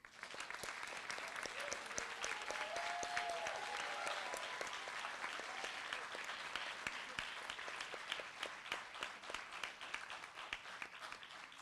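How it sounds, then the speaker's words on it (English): Applause for new National Honor Society members at a school induction ceremony, a steady wash of many hands clapping that holds for several seconds and then thins into scattered distinct claps. "please join me once again in applauding all of our new Honor Society members"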